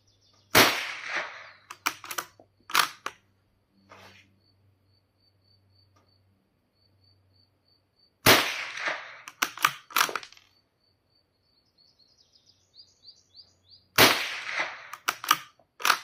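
Sharp shots from a Rossi 8122 rifle ring out in three spaced bursts, each followed by clanging metallic pings off a steel target frame, with faint insect-like chirping in the quiet gaps.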